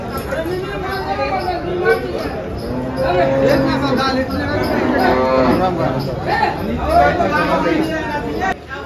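Several HF and Jersey cows moo repeatedly amid a busy crowd of people chattering at the Dhule cattle market, with overlapping calls and constant background hubbub.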